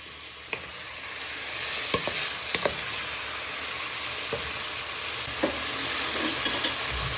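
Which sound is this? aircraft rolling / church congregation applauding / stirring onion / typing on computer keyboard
stirring onion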